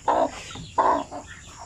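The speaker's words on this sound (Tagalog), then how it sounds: "inahing manok ito" Two short, throaty clucks from a Shamo Aseel mother hen, close by, separated by a brief pause with a softer trailing note.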